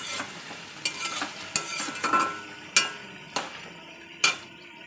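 Meat and potato curry is stirred in a pan, with a low sizzle broken by regular, sharp knocks and scrapes of a spoon against the metal, about every half second to second.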